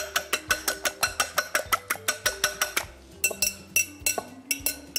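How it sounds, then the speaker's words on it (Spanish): A whisk beating eggs in a bowl for anchovy batter, fast regular metallic clinks tapping against the bowl, steady and close, briefly pausing and then resuming. "yo ahora lo que voy a hacer es batir los huevos"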